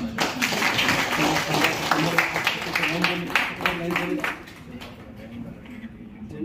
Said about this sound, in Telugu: మన ఈ సందర్భంగా అందరం చప్పట్లతో స్వాగతిద్దాం